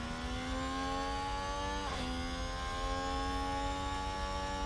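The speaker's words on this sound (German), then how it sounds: "Also die Motoren-Sounds sind von Hersteller zu Hersteller original." A Formula 1 race car with an Alfa Romeo engine in a video game revs loudly and steadily, its rising harmonic whine briefly dipping at a gear change before climbing on, continuous with no talk.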